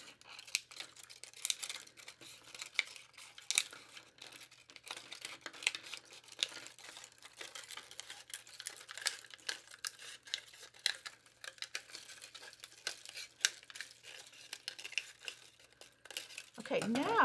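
Scissors snip repeatedly through a plastic water bottle, cutting it up the middle into a double spiral, giving close, irregular crinkly clips and rustles with brief pauses, ending in a louder plastic crackle.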